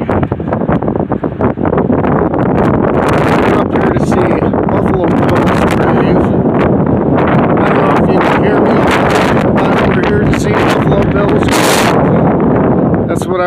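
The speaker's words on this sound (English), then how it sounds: "it's windy" Strong wind roars hard against the microphone outdoors, a loud, continuous buffeting rumble with sharp gusty bursts throughout, and a voice briefly heard beneath it.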